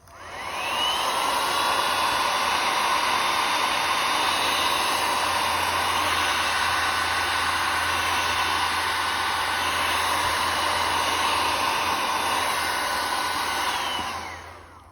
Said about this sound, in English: we're going to use the heat gun and blow down and up, and you'll see the wave shape forming with the white